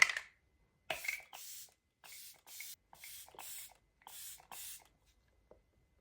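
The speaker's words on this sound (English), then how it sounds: "I'm going to set everything with the Stay All Night Blue Light Micro Setting Mist by" An e.l.f. Stay All Night Blue Light Micro Setting Mist is spritzed onto a face in about eight short, soft hissing bursts in a quiet room, close to the microphone, with small handling clicks between sprays.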